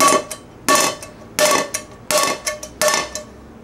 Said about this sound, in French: c'est le test que j'aime appeler le test du marteau